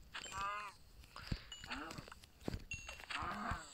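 Cows moo repeatedly in a video game, several short low bovine calls in quick succession at close range, with game noises around them and no talking.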